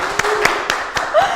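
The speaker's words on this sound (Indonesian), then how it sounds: "Tepuk tangan teman-teman." A short burst of hand clapping from a small group, quick and fairly loud, with sharp claps in an uneven rhythm.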